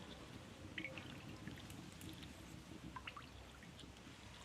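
Water poured onto cheese curds while homemade mozzarella is made from milk, a soft, faint, continuous trickle with a few small drips, close by and without talk.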